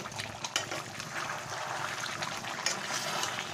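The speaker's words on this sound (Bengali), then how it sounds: "তার আগে আমি এখানে খানিকটা কেওড়া জল আর গোলাপ জল আমি এর মধ্যে দিয়ে দিলাম।" Kewra water and rose water poured into chicken biryani, a soft steady trickle of liquid running close by for several seconds with no talk.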